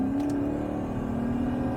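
A 1997 Mercedes E420 accelerates hard, its engine note rising to a steady, strong drone heard from inside the car, with a faint brief knock near the start.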